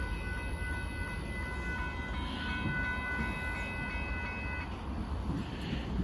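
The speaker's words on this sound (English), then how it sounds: "northbound Union Pacific auto train with that generator car" A northbound Union Pacific freight auto train with a generator car rumbles past a road crossing steadily with a low continuous roar, while a faint horn-like tone hangs in the background.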